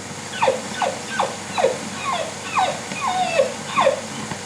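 A puppy whimpers in a repeated string of short, high, falling cries, about eight whines in a row over a low background hum.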